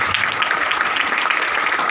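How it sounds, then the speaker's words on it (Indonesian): Church congregation applauding for Jesus during a service, a steady dense wash of many hands clapping throughout, moderately loud and close with no talk over it. "Kasih tepuk tangan untuk Tuhan Yesus"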